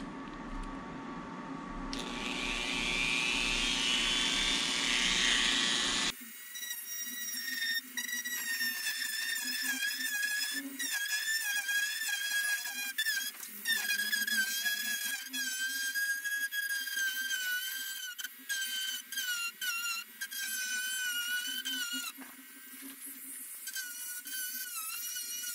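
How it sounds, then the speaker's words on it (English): A Dremel rotary tool grinds at a cold crack in a Royalex hull of a Mad River Eclipse canoe, a high continuous whine that shifts pitch under load and runs close and steady with brief dips. "I'm quite pleased with how that Dremel performed."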